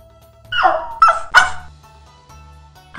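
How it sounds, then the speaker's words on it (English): A dog gives three sharp, loud barks in quick succession, close and alone, followed by quiet. "The dog."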